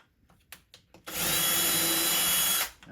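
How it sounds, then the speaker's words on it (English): Power drill boring a starter hole in a phone case: a few light handling taps, then a loud, steady whine for about a second and a half that stops abruptly. "So if I take this regular drill, I'm going to make a hole, a starter hole."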